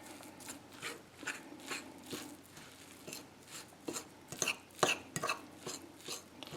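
Cornmeal and flour being stirred together in a bowl for salmon patties, soft scraping and tapping strokes in an irregular rhythm, close and quiet with no talking.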